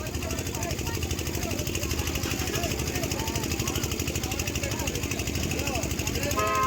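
A line of motorcycles and jeeps idles together at an outdoor gathering, forming a steady, throbbing engine rumble that holds without a break, with voices faintly mixed in.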